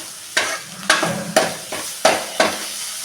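Chopped onions and tomatoes sizzle in a pan for a Tamil vada curry, with a spoon stirring in five or six regular scraping strokes over the steady frying hiss, close and fairly loud.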